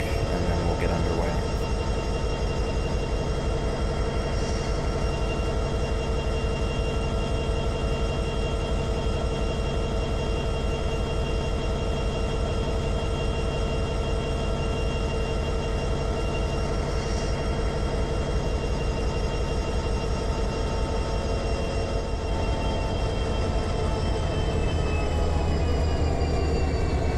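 BNSF SD70MAC locomotive number 9884 in Trainz 19, hauling coal, a steady loud diesel engine drone with layered tonal hum and rhythmic rumble holding constant throughout, while someone talks over it.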